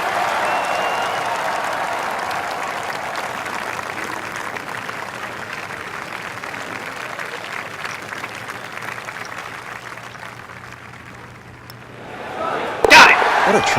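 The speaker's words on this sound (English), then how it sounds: "Listen to that crowd. So loud I can't even talk over him." Golf gallery cheering and applauding in a PGA Tour video game, a steady loud wash of clapping and crowd noise that fades toward the end before a brief louder burst.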